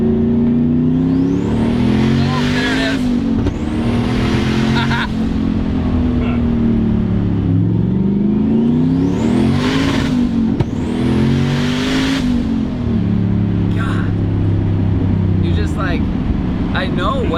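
A 700-horsepower sleeper Volvo car revving hard during a burnout, a loud, sustained engine roar with repeated rising and falling rev sweeps over about seventeen seconds, close up and continuous, with voices faintly under it.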